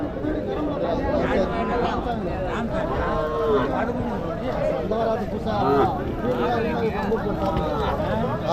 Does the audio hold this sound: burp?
no